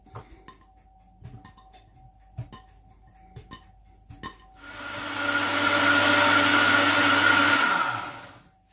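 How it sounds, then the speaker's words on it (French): Countertop blender whirs through peeled clementines, a loud steady motor roar that kicks in midway after a few light taps and knocks, holds for several seconds, then cuts off. "j'ai épluché mes clémentines. Je vais les mixer, les blender."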